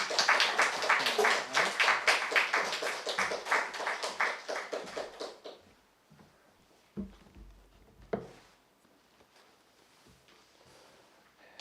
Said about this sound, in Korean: 환영하며 박수 치어드리겠습니다